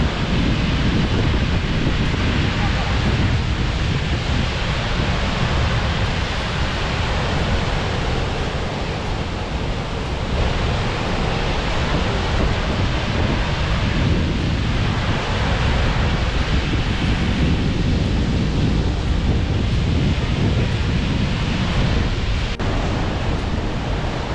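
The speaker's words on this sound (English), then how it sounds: "we have arrived at the Godafoss Waterfalls, Waterfall of the Gods" The roar of Godafoss waterfall in Iceland, a loud, constant broadband rush of falling water mixed with wind buffeting the microphone, steady throughout with no voices.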